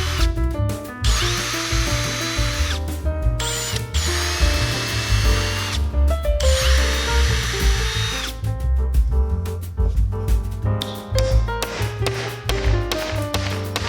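A power drill bores holes through a wooden workbench stretcher in two long, loud whirring bursts, with a few short stops and taps between them, all over steady background music.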